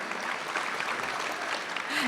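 Audience applause at a State Bar of Texas annual meeting general session luncheon in Houston, a steady even patter of many hands clapping throughout the short stretch, moderately distant in a large room.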